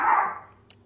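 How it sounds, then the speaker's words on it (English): A single sharp dog bark indoors, close and loud, with a short fading tail in a quiet room. "Sorry, my dogs are barking."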